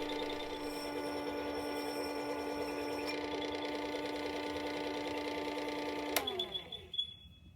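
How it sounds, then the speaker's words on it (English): Worksharp 3000 sharpener motor whining steadily while grinding and honing a Stanley 93 shoulder plane blade, then spinning down after a sharp click near the end, close and fairly quiet. "Then I just continued on grinding and honing with my Worksharp 3000 until the blade was nice and sharp."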